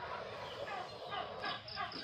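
Two farmyard turkeys squabbling over eggs on a rural homestead, a dense run of close gobbling and harsh calls, overlapping and agitated, with other fowl noise behind.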